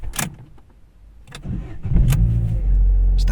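A Vauxhall Opel Corsa E started with its key: a short cranking burst catches and settles into a steady, fairly loud idle, heard nearby with no voices.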